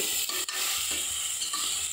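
Hot oil sizzles steadily as onions, ginger, garlic and spices such as bay leaf and cardamom fry for a chicken biryani tempering, with a couple of brief stirring scrapes in the pan.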